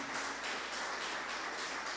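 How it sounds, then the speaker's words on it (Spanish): Church congregation applauding loudly during a morning service, a dense, steady wash of many hands clapping that fills the whole stretch with no voices on top. "Denle un aplauso fuerte al Señor en esta mañana"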